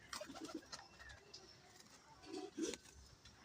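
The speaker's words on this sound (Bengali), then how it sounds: "হাই কোয়ালিটি সব কবিতর" Caged high-quality pigeons cooing close by: two soft, throaty bursts of rolling coos, one early and one later, with faint rustling between.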